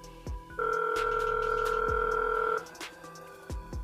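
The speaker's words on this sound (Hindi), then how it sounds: "तो यहाँ पर मैंने अपने मोबाइल पे कॉल मिलाई है" A mobile phone ringing from an outgoing call: a steady electronic ringtone that sounds for about two seconds, with clicks before it and after it and faint background noise.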